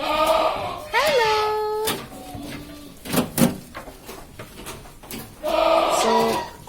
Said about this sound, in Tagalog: Bibigyan ko lang ng food yung inahing kambing.